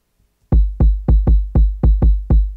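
Deep booming trap bass kicks in a steady syncopated 3-3-2 pattern, each hit loud and decaying, with a small tick on top, repeating for about two seconds.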